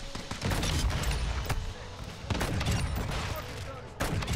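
Rapid bursts of gunfire crackle through a first-person shooter video game match, dense overlapping shots with a few sharp louder reports standing out, continuous and close, with a voice talking over it.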